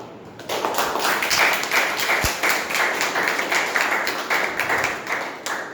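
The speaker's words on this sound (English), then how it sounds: "With a huge round of applause, I'll request all of you to welcome her." Members at a Toastmasters meeting applaud to welcome their area director, a steady stream of many hands clapping that swells and holds at moderate loudness with faint room echo.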